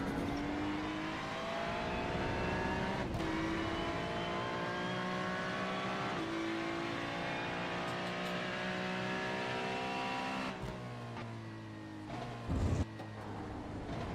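A Ferrari 296 GT3 race car engine in iRacing at a wet Rudskogen Motor Center revs and shifts through gears, rising whines dropping at each upshift, with a tire squeal and a sharp downshift near the end.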